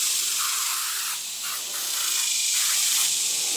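Mosquito repellent sprayed from a can outdoors at home, a loud continuous aerosol hiss close by with a brief dip partway through, no talking.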